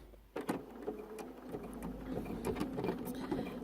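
A sewing machine fitted with a hemmer foot stitches fabric in a rapid, even mechanical chatter. A sharp start is followed by steady stitching that stays close and moderately quiet, with no voices.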